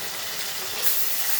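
Ginger garlic paste sizzles in hot oil with a steady, close hiss and faint crackle that swells slightly partway through.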